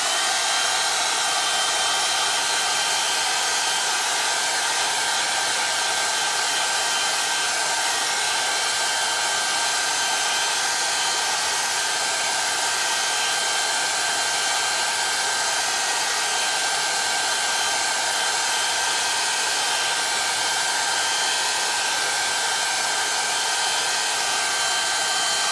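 A hair dryer blows steadily to dry freshly made affirmation card prints, a loud, even whirring roar that holds unchanged throughout with no voices.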